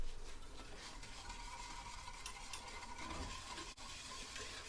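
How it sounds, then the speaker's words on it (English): A sugar and water solution being stirred in a pot on the stovetop for rock candy, quiet scraping and swirling with a faint hiss, close and soft, with one brief clink. "you're going to want to stir it if you're doing the stovetop method"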